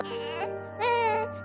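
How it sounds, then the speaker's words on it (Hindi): A newborn baby cries from inside a large garbage bin in two strained wailing bursts, the second louder and longer, with no talk over it. "उस बड़े से कूड़ेदान से एक बच्चे के रोने की आवाज आ रही थी।"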